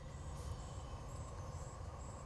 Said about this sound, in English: This is lively forest.